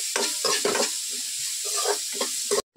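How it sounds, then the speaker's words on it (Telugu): Onions fry in ghee in a pan for rice, with a loud continuous sizzle broken by several scraping stirs of a spoon against the pan, no talking. "నెయ్యిలో ఉల్లిపాయలు వేసుకుంటున్నామండి సపరేట్గా అన్నంలోకి."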